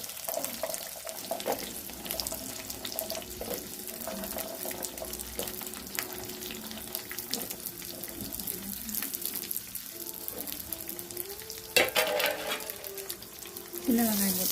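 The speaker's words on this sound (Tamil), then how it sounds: "பச்சை வாசனை போகிறதுக்கு நல்லா வதக்கணும்." Shallots fry with garlic and fenugreek in oil for onion kara kuzhambu, a low, continuous sizzle with occasional stirring and a brief watery rush near the end, and a voice talks quietly at times.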